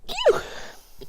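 A single short sneeze bursts out near the start, close and fairly loud, followed by a brief lull and a faint trailing sound during a tabletop role-playing game session.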